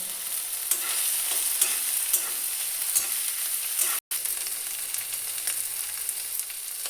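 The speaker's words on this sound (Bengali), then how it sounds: "এখন পেঁয়াজ আর টমেটোটা যখন ভাজা হয়ে গেছে" Steady, close sizzling of onions and tomatoes frying in a pan, with occasional soft stirring clicks and a brief dropout partway through.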